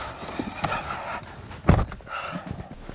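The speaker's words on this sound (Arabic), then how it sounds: "أنت برضو تبي تركب حصان صح؟" A horse's hooves clip-clop at an outdoor winter-season venue in Riyadh: irregular close knocks over a dense, noisy crowd background.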